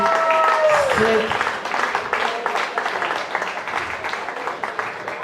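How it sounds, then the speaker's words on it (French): A comedy club audience claps after a voice trails off. The applause starts thick, then breaks into scattered, uneven claps of moderate loudness that fade gradually over several seconds. "applaudissez pour vous avant d'appeler le prochain"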